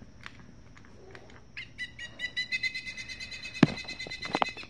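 Electronic pileated woodpecker call from a Wild Republic Audubon plush toy's sound box, faint at first, then a rapid series of tinny, high repeated notes building louder, with a sharp click or thump near the end.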